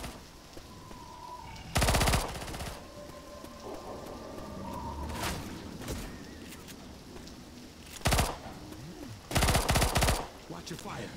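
Bursts of automatic gunfire from the video game Left 4 Dead 2, three loud rapid volleys a few seconds apart over a steady background of game ambience, with quieter shots and noises between them.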